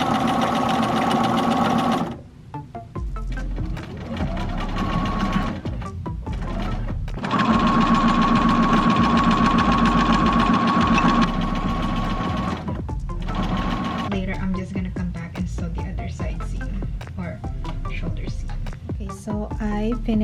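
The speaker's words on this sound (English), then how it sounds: "Just going to basically stitch it along the neckline" A sewing machine stitches along a wrap dress neckline in several bursts, some short and one long steady run, with brief pauses and clicks between them and no talk over the stitching.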